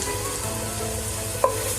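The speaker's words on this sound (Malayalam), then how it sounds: "നമുക്കിതിലോട്ട് ഇനി ജിഞ്ചർ ഗാർലിക് പേസ്റ്റ് ചേർത്ത് കൊടുക്കാം." Ginger garlic paste fries with sliced onion in a pan, a steady close sizzle with a brief stir near the end and no talking.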